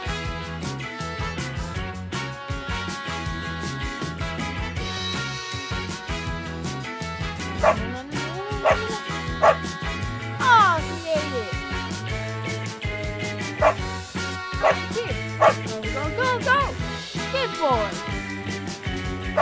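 A real dog barks and yips in short bursts over loud, continuous background music, the sharp yelps scattered unevenly through the middle and latter part, fairly close but partly buried in the music.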